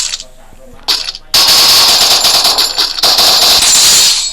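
Rapid bursts of video game gunfire, first a few short shots and then a dense, loud, sustained automatic stream with a brief break partway through, with no voices over it.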